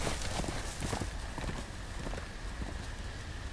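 Horse hooves clip-clop steadily and close up in a Game of Thrones video game, a brisk repeating gait over a bed of ambient noise.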